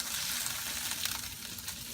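Pork belly frying in a pan with a splash of water added, giving a steady, close sizzle and hiss throughout with no talking.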